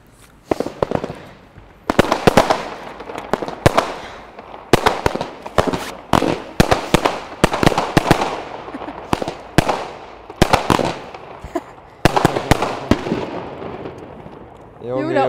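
Rapid strings of New Year's Eve firecrackers popping and cracking nearby, in repeated dense bursts with short gaps, and voices talking between them.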